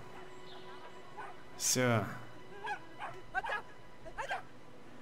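A small dog in the video game Brothers: A Tale of Two Sons gives a sharp yelp followed by a few short whimpers and yips, heard under a voice talking over the game.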